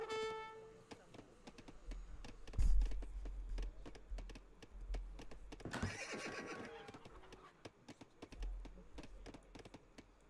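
Cavalry horses in Age of Empires 3 neigh and whinny amid clip-clopping hooves and battle effects, with rapid keyboard and mouse clicking throughout; someone speaks briefly over it.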